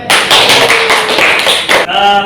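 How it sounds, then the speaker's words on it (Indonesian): A small group claps in a classroom during a teacher performance assessment, loud close bursts of hands in a quick uneven patter lasting under two seconds before it stops, leaving a brief tonal ring. "Tepuk tangan dong."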